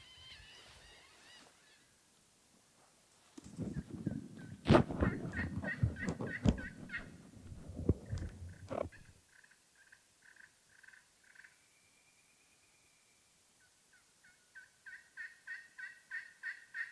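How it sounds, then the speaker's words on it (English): Wild turkeys gobbling on public land in Maryland, with rolling gobbles about 150 yards out, a nearer burst of rustling in the middle and a chorus of frogs croaking rhythmically around them, all faint and distant. "We just got a gobble out here about, it was probably 150 yards out."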